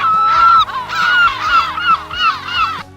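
Seagulls at a beach squawk loudly in a dense, overlapping run of harsh calls that rise and fall in bursts, with no talking.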